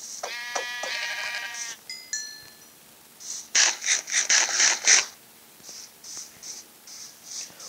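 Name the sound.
sheep bleating in video game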